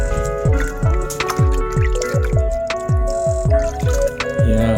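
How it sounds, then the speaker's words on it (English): Water being poured over potted pumpkin seedlings in a home garden, heard as a steady run of close, regular dripping and splashing pulses about every half second, with no talk. "here I am watering the seedlings"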